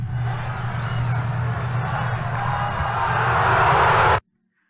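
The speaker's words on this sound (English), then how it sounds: "So here's some sound of cheering." Recorded crowd cheering used as a sound effect, a dense continuous roar of many voices that swells slightly louder toward the end before cutting off abruptly into silence.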